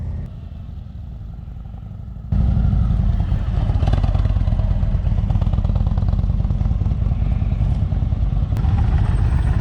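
A motorcycle engine rumbles low and steady as the bike rides through a cone course, growing louder and closer after a couple of seconds and holding a constant drone.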